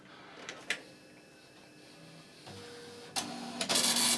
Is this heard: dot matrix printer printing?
yes